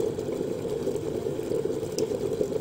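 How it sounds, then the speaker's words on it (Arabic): Water coming to a rolling boil in an electric kettle, a steady bubbling rumble with faint rattles, close and continuous, no speech. "زي ما انتم شايفين الميه بتغلي اهيت"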